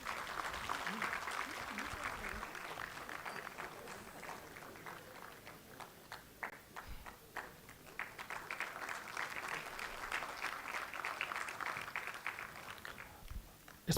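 Audience applause at an annual day award ceremony, a steady wash of clapping lasting throughout with a few louder claps and some voices mixed in.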